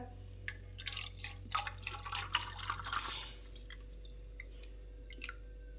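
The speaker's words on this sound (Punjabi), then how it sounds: "ਆਪਾਂ ਨੇ ਲੈ ਲੈਣਾ ਜੀ ਪਾਣੀ ਗਲਾਸ ਦੇ ਵਿੱਚ ਠੰਡਾ" Cold water is poured into a glass in a short, splashy trickle with a few drips, close by for about three seconds, then near silence over a low background hum.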